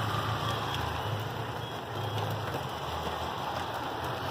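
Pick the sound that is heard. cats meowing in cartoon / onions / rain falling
rain falling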